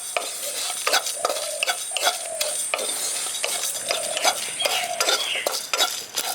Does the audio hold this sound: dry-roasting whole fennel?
yes